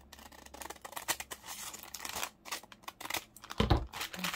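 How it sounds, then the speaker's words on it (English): Scissors cutting through a paper bag while making a junk journal, a run of uneven crisp snips and crinkly paper rustles at close range, with a heavier thump near the end and no talking. "Okay, I'm going to cut that off as well."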